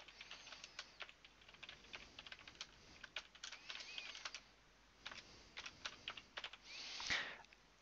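Quiet clicking of keys on a computer keyboard as text is typed in irregular bursts, with a soft rustle near the end.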